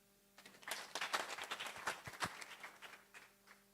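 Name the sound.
audience applause, hand clapping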